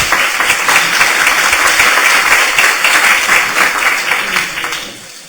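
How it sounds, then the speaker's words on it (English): Sustained applause from a crowd, loud and dense throughout, gradually tapering off at the end. "So please, let's give a great round of applause."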